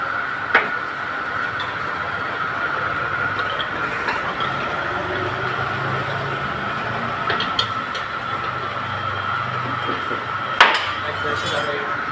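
A rebar straightening machine working a 16 mm steel rod hums steadily throughout, with occasional sharp metallic clinks and rattles standing out, and faint voices in the background.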